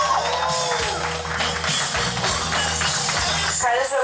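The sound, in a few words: audience applause for Carlos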